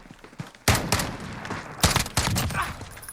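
MK 14 EBR rifle fire in Call of Duty Modern Warfare, heard as several sharp, loud reports in two bursts, the first single shot followed by a quick cluster, with game ambience between.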